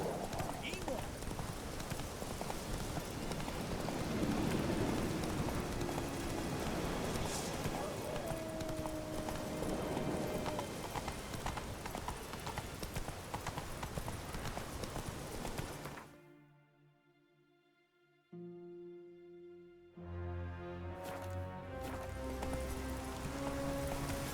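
Hooves of the horse Roach clip-clop in a steady galloping rhythm through The Witcher 3 on PC, close and loud under a voice, then dropping out briefly before the hoofbeats return.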